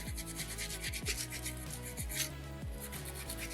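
A Brazilian soapstone carving being smoothed with sandpaper: close, steady rubbing and scraping strokes in a repeating back-and-forth rhythm, with no voices.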